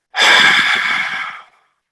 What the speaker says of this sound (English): it makes kind of a throaty sound, which is why it's called Ujjayi breathing